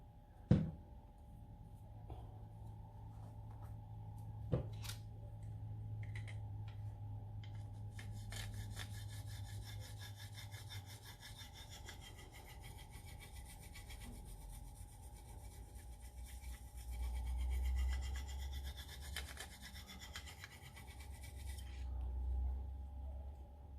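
Knife blade honed on a fine Arkansas stone, steady soft rasping strokes repeating close by for most of the stretch, fairly quiet, with a couple of sharp knocks and no talking.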